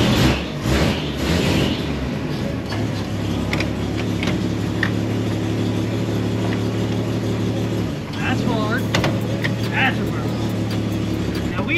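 An old hot rod car pulls off for a drive, its engine holding a steady, loud droning hum throughout with a brief dip and shift in tone near the end.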